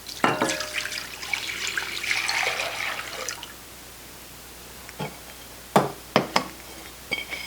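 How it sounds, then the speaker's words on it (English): A lemon sherbet mixture of milk and sugar, just off the heat, is poured into a container as a steady liquid stream that fades away, followed by a few sharp knocks. "pour this into a container."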